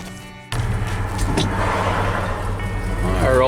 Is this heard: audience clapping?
no